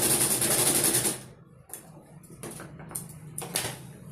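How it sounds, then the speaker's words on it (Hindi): A sewing machine running a straight stitch on fabric for a frilled tote bag, a fast rattling whir for about a second, then short stop-start bursts of stitching with pauses between, close by. "एक तरफ हम यहाँ पे एक सीधी सिलाई कर लेंगे, सिर्फ यहां से।"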